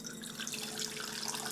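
Water pours steadily into a cooking pot, 500 milliliters measured for tteokbokki, making a continuous close splashing trickle with no talk.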